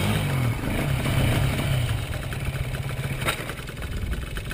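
A motorcycle engine runs close by with a steady, low, throbbing drone, briefly rising near the start and settling back to a rough idle.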